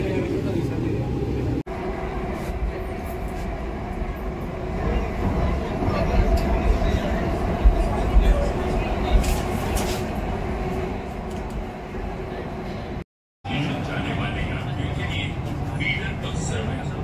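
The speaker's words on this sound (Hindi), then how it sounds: "भाई मेट्रो आ गई है मेट्रो में बैठेंगे हम।" A Delhi Metro train pulls into the station with a steady, loud rumble and rolling rail noise filling the platform, with a brief dropout near the end.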